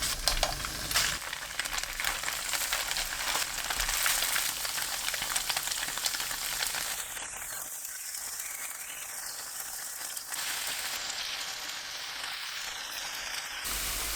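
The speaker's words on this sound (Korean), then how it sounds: "팬에 식용유 2큰술 두르고 센 불로 두부를 노릇하게 구워주세요" Tofu pan-frying in two tablespoons of cooking oil over high heat, a continuous loud crackling sizzle close by that eases slightly partway through, with no voices.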